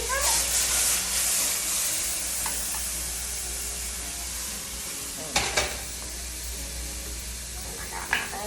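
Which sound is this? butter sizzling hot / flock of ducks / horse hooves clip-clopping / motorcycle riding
butter sizzling hot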